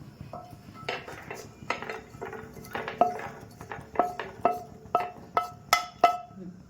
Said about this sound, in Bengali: ফ্রাই হয়ে গেছে, দেখুন পাত্রতে ঢেলে নিন